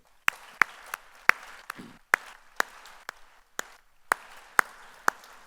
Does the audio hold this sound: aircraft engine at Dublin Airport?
no